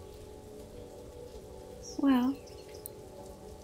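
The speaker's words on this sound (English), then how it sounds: "It's raining water." Steady light rain patters outdoors, a soft continuous hiss in the background, as a voice briefly speaks over it.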